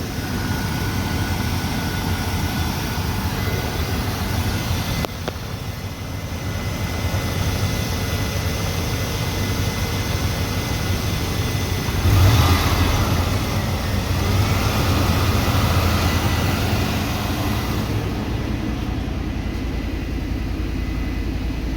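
A GM car engine runs at a steady, loud high idle with its idle air control wires unhooked, a continuous drone with a brief swell partway through and no talking.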